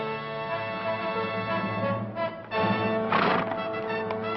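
A horse is led out in a Western TV episode, its hooves clip-clopping in a rhythm before it gives a loud, close neigh near the end.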